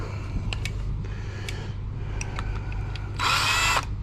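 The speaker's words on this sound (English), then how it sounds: "Need a bigger, smaller drill for that one." A power drill working on the heavy cast-aluminium casing of a vintage computer being scrapped, with short whining bursts and mechanical clicks, then a louder sustained drilling whine near the end.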